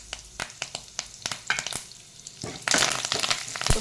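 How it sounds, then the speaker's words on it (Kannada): Mustard seeds, cumin and curry leaves hit hot oil in a pan for carrot pulao, giving scattered sharp pops and crackles that build into a dense, close sizzle, with no talking. "ಈಗ ಸಾಸಿವೆ ಈ ಚಮಚದಲ್ಲಿ 1 ಚಮಚ, ಜೀರಿಗೆ 1 ಚಮಚ, ಕರಿಬೇವಿನ ಎಲೆಯನ್ನು ಸಹ ಹಾಕಿಬಿಡಿ."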